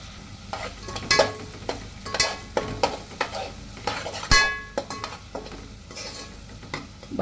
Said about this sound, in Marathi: त्याच्यामध्ये एक बारीक चिरलेला कांदा घेतला मी, एकदम बारीक चिरून घेतला